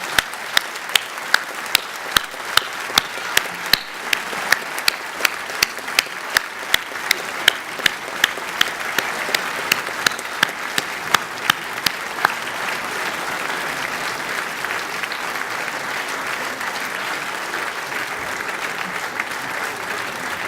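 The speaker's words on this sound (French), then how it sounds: "Et que vous applaudissiez vos familles, car ce sont eux aussi les artisans de votre réussite." Graduates at an ESSEC commencement ceremony applauding their families, starting with distinct loud individual claps that quickly swell into sustained, even applause filling a large hall.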